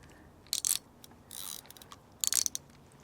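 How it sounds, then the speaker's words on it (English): A fishing reel's drag is tightened while sea fishing at Brighton Marina, producing three short bursts of crisp ratchet clicking, fairly close and alone against a quiet background. "Get the drag tightened and we're good to go."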